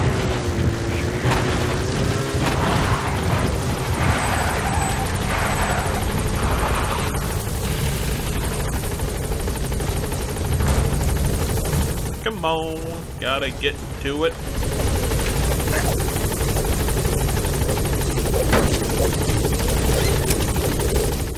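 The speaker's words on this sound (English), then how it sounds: "Support helicopter. The helicopter is slightly faster." A support helicopter in Metal Gear Solid 5 flies with a continuous loud rotor drone and engine roar, while someone talks over it throughout and a brief radio-like burst cuts in.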